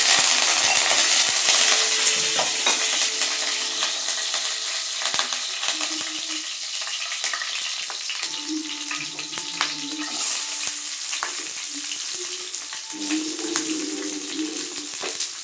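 Curry leaves with fenugreek seeds sizzle in hot oil for a bottle gourd and dried fish curry, a steady crackling fry running throughout at moderate volume with occasional stirring clinks.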